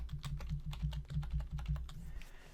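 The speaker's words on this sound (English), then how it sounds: "I'm going to enter in a test credit card number." Rapid keystrokes on a computer keyboard as a test credit card number is typed into a checkout form, a close, steady run of clicks with no voices.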